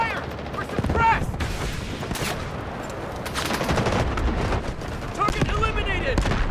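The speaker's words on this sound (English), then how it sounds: "Taking heavy fire! We're suppressed!" Bursts of gunfire and heavy firefights in the Delta Force video game, including M4A1 assault rifle shots, with continuous loud shooting and impacts and game voice callouts mixed in.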